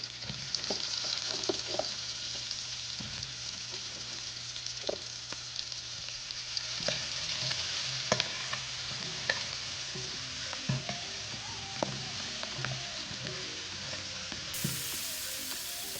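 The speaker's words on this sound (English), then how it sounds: "Stir fry it until it gets a little tender" Mushrooms, okra and Brussels sprouts stir-fry in a hot pan for a stew, with a steady close sizzle throughout and scattered scrapes and clinks of a utensil stirring the vegetables.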